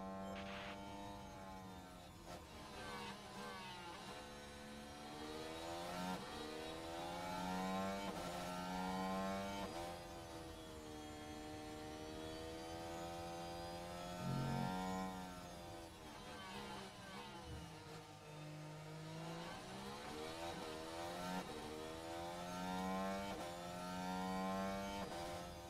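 F1 cars racing in the video game F1 Manager 2023, engines whining and rising and falling in pitch as they pass and shift, one after another throughout.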